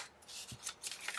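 Scissors snipping through a paper page in a journal, a few short dry cuts close by with light rustling, no talking.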